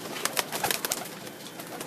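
Pigeons on a house rooftop, several birds making soft, irregular coos and wing flutters close by, with no talk.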